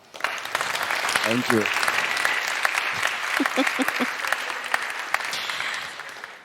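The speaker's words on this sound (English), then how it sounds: "A warm applause." Warm audience applause fills a TEDx Salon talk event, steady dense clapping throughout with a voice briefly speaking over it.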